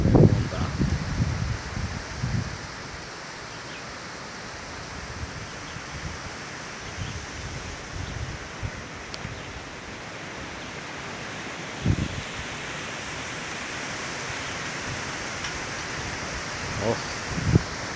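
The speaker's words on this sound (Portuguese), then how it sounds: "o vento aqui em Araçais, povoado da floresta. Vocês têm ideia da intensidade do vento como tá." Strong wind sweeping through eucalyptus leaves in a forest village, a steady broadband rush with louder gusts near the start and again around the middle and end.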